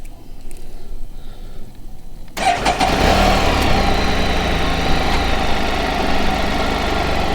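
After a short quiet stretch, the engine of a 2016 Can-Am Spyder RT Special Series three-wheel motorcycle cranks and fires up, then settles into a steady, close idle.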